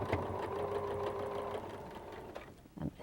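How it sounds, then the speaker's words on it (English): A sewing machine stitches a straight line in a quilting session, a steady close mechanical whir for most of the clip that slows and stops, followed by a couple of small handling clicks. "just keep sewing in a straight line"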